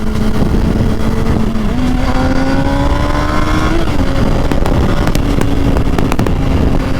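A Honda CBR 600RR-type sport motorcycle pulls away from a bike meet, its engine droning steadily and rising in pitch through several gear changes, loud and continuous with road and wind noise and no talk.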